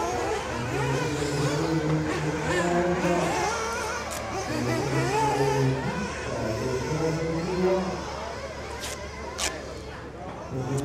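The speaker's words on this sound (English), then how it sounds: "Matt now is showing you the cars warming up" 1/8th-scale off-road RC race cars warming up at a European Championship finals day, with high-pitched buzzing nitro engines revving and whining in overlapping waves and commentary talking over them.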